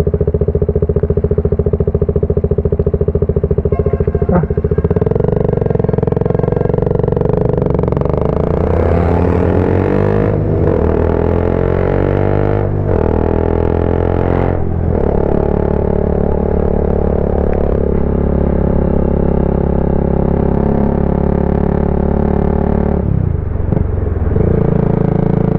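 Honda Beat and Yamaha Aerox scooters pass on a road, engines rumbling loud and close with rising and falling revs and a few sharp whooshes as they go by.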